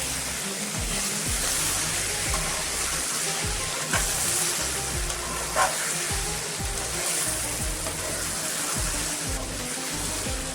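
Green chilies, tomato, cloves, cardamom and cinnamon cooking for veg pulao, a steady dense sizzle with periodic low thumps of mixing, close and without talk.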